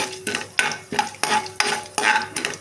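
Chana dal, mustard seeds, cumin, urad dal and dry red chillies fry in hot oil for poori curry, stirred in about six rhythmic scraping strokes against the pan over a light sizzle, close and loud, with no voices.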